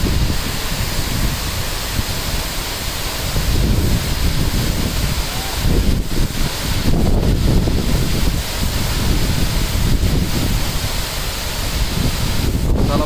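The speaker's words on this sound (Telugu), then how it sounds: "వాటర్ ఫాల్స్ అయితే ఇంకా ఎక్సలెంట్ విట్టల్ బొర్ర వాటర్ ఫాల్స్ వెరీ బ్యూటిఫుల్" Steady roar of the Pittala Borra waterfall, a broad, continuous rush of falling water with gusty wind buffeting the microphone throughout, loud and unbroken with no voices.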